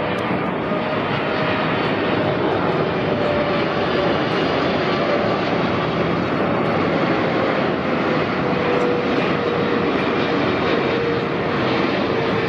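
An Air Pacific Boeing 777-300 airliner from Hong Kong passes near LAX with a loud, continuous broadband jet engine roar that stays steady throughout.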